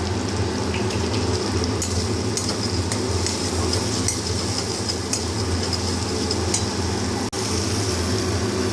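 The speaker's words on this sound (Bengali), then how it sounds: "মশলার সাথে একটু কষিয়ে নিই।" Ground spices, chili, cumin and turmeric, frying and being stirred in a pan with a little water, a steady dense sizzle and scraping under the constant roar of a kitchen chimney fan, with no talk.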